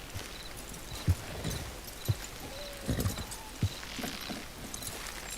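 Horse hooves clip-clop in Red Dead Redemption 2, a handful of distinct hoof strikes spaced unevenly over a quiet ambient background, moderately close with no talking.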